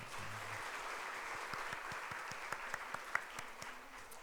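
A church congregation applauds a children's choir at a Sunday afternoon service. Many hands clap in a soft, steady wash, with a faint rhythmic pulse of synchronized claps emerging partway through.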